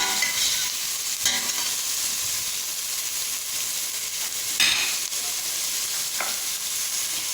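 Vegetables sautéing in a pan as the base for a creamy empadão filling, with a steady bright hiss and sizzle and a few stirring scrapes, close and unbroken, with no voices.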